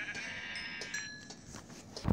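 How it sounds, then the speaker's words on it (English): Sheep in the Minecraft video game give a couple of short, nasal bleats close by, standing alone against faint background sound. "let me kill the sheep before I explore that"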